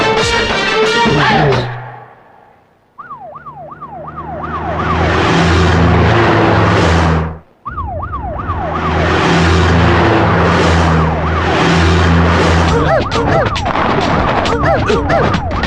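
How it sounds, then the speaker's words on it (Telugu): A loud wailing vehicle siren sweeps up and down repeatedly, cutting out briefly midway and resuming, over heavy engine and traffic noise with music before it starts. "సైరన్ సౌండ్ అండి"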